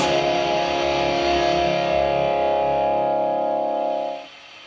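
Electric guitar played through an amp simulator pedal board, a sustained distorted chord ringing out with effects for about four seconds before cutting off, leaving a faint hiss.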